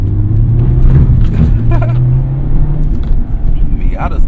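Steady, loud low engine drone from a 2020 Mazda Miata RF building gently as the roadster accelerates, heard from inside the cabin with faint background voices.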